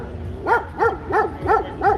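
A dog barks five times in a quick, even rhythm, each bark short and fairly close, with only a low background rumble around it.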